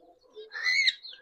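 Pet birds, finches kept at home, give a brief soft coo followed by a thin rising chirp, close and fairly quiet in an otherwise still room.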